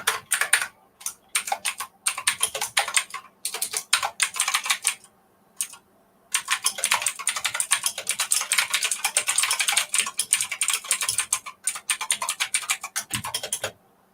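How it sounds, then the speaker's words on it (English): Fast, clacky typing on a mechanical keyboard, bursts of keystrokes with short pauses between them, close and crisp. "I have a very noisy keyboard because I like mechanical keys"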